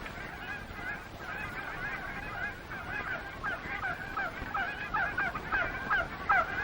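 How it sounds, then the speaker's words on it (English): A flock of geese honks continuously, many overlapping calls at moderate distance, growing busier and slightly louder toward the end. "And there were geese."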